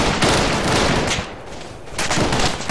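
Heavy gunfire from a cooperative ArmA military game mission erupts in loud, rapid bursts. The shooting is sustained, dips briefly mid-way, then surges again.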